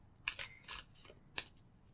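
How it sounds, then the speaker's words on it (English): Close, soft riffling and slapping of Shadowlands Tarot cards being shuffled by hand, three or four quick papery bursts within a couple of seconds, quiet and alone. "So I'm going to shuffle a little bit longer"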